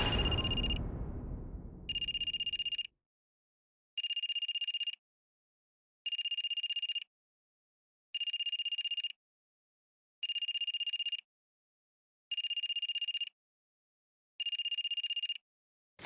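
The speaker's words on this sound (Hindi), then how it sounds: "एक दिन रंजना के कमरे से उसके मोबाइल की घंटी की आवाज सुनाई देती।" A mobile phone rings in a regular pattern of eight identical electronic bursts, evenly spaced about two seconds apart, loud and alone after a fading low rumble at the start.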